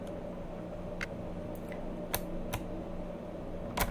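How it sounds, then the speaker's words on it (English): An alarm clock ticks away in a game scene from The Coffin of Andy and Leyley, with sparse, irregular faint clicks standing out over a quiet, steady background hum. "An alarm clock is ticking away."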